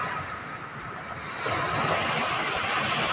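Large sea waves breaking under strong wind along a coast where a fisherman works, a broad roaring wash that swells partway through into a louder surge, with steady wind noise and no talk.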